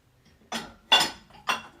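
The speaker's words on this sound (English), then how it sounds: "Okay, we're gonna put this bowl in the" A ceramic bowl is set into a dishwasher rack, producing three short, close clinks and knocks spaced about half a second apart, with no talking.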